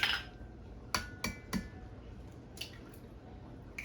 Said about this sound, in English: Let's get our eggs in.